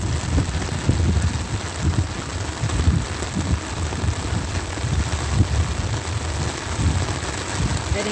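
Heavy rain pouring down on a city walk toward a shopping mall, a loud continuous hiss and spatter with low rumbling gusts, close and unbroken throughout.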